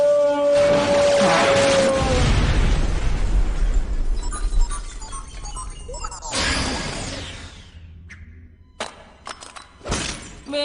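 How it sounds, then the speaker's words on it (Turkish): A big cartoon explosion from a Ben 10 Omniverse scene bursts loudly, with a long rumbling blast, then crashing debris and a few scattered smaller bangs and pops as it dies away. "Büyük patlamanı istemiştin."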